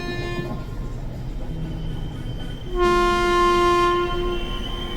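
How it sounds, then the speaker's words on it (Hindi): Train sounding its horn while slowing down, a steady rumbling rail noise with a loud sustained whistle blast entering partway and holding, a voice faintly mixed beneath. "ट्रेन 3 बार सीटी बजाकर धीरे होने लगती है।"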